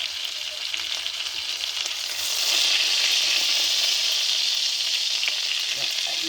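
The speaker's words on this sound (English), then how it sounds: "Letting that bacon cook around" Bacon for a chopped steak sizzles in a pan, a close, steady crackling hiss that swells louder midway and holds.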